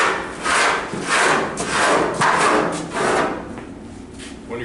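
A metal file is drawn in slow, repeated strokes, roughly six rasping passes with short pauses between, close and moderately loud, while wheel tubs are being installed.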